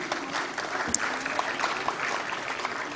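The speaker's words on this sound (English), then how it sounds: "A thunderous round of applause" An audience at the NHEA 2021 award ceremony in Vigyan Bhawan gives a steady, dense round of applause, loud and sustained for the whole stretch, with a single sharp clap standing out midway.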